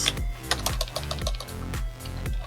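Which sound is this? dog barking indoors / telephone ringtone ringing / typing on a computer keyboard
typing on a computer keyboard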